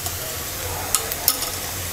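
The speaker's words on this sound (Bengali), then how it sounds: "পেঁয়াজটা ভাজা হয়ে গেছে, এবার দিয়ে দিচ্ছি 1/2 চা চামচ আদা রসুন বাটা" Ginger-garlic paste hitting hot oil with lightly fried onions for a tomato hilsa fish curry, giving a steady low sizzle with a few brief stirring scrapes and clinks near the middle.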